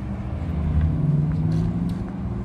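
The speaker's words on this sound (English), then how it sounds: "As we're coming out, love the sport electric sound." Porsche Taycan Sport Turismo 4S electric car pulling out of a Porsche center, giving a steady low hum and rumble that swells slightly midway, close and continuous with no talk.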